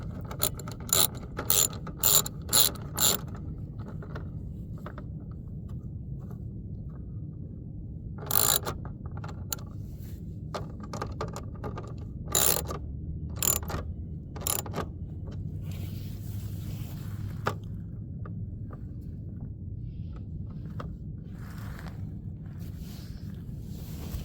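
Screws are tightened on a license plate cover with a ratcheting tool, producing quick bursts of close, sharp clicks in clusters separated by quieter pauses over a low hum.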